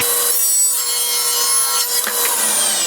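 A table saw rips a planed wood board to width, a steady, loud high-pitched cutting whine that holds throughout with slight swells, no talk.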